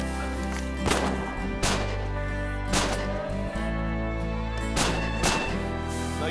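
Shotgun blasts on a prairie waterfowl hunt in Canada: five sharp reports at irregular intervals, a pair close together near the end, fired over a steady droning tonal background.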